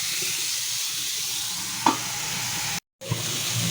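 Chicken kathi kebab fries in a covered pan with a loud, continuous close sizzle and hiss. A faint clink sounds midway, and the sizzle cuts out for a moment before resuming.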